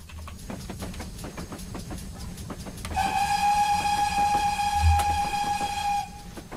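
A train runs in Train Simulator 2022 on the Falmouth Branch, with rhythmic clickety-clack of wheels on rail joints, then a loud sustained horn blast lasting about three seconds over the rumbling wheels.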